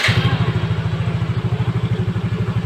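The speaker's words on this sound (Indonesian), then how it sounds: "Kita nyalakan mesin." A Yamaha Mio J scooter with a sputtering fault starts up and settles into a rapid, even idle, its low engine pulses close and loud after a brief starter burst.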